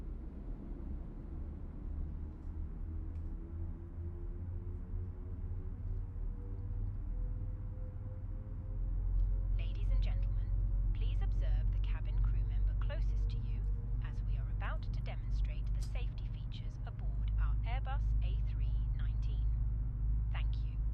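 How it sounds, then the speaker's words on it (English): A Fenix Airbus A319 jet engine spools up in Microsoft Flight Simulator 2024, a low rumble with a rising whine that grows louder midway, with some faint clicks over it. "And so we can sit here in this view and listen to the engine start."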